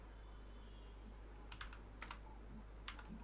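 Someone types on a computer keyboard in a small cluster of soft, quick keystrokes over a low steady hum, fairly close, with no talking.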